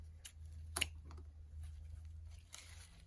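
Scissors snip ribbon tails on a red, white and blue popsicle floral swag: one crisp close cut near the start, then a couple of fainter snips in a quiet room.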